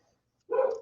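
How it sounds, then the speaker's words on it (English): Neighborhood and household dogs barking, a single short burst of barking partway through, moderately loud and otherwise quiet around it. "So I apologize for all the barking."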